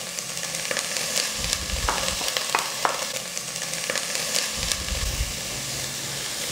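Grated carrot is added to a chicken pancake filling and sautés in a pan. It gives a steady frying sizzle and hiss, with spoon scrapes and stirring clatter now and then.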